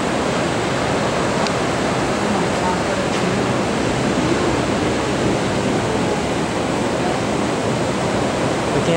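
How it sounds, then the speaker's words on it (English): Heavy surf roars continuously, a dense wash of big waves breaking close by on the Oregon coast with no pauses between them. "there's some really big waves coming in today."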